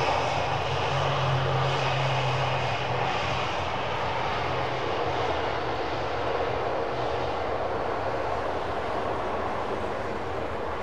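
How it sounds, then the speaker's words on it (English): Propeller aircraft engines at London Heathrow Airport roar steadily and loudly as the blades swing into reverse pitch, a broad sustained drone with a low hum that eases slightly over the span, no voices. "Now watch the blades go into reverse pitch."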